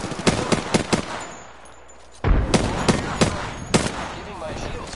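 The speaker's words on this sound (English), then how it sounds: "The enemies are shooting at me." Bursts of automatic gunfire in the Apex Legends battle royale shooter, several sharp close shots in quick succession, a brief lull, then more scattered loud shots, with no talk.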